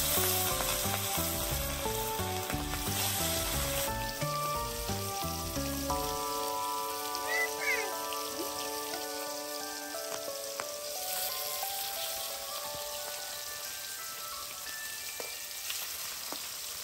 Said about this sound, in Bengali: তেল গরম হয়ে গেলে এক এক করে ইলিশ মাছগুলো ভেজে নেব।